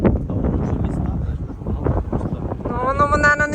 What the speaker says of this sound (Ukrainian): чути, що я балакаю, бо воно дує вітер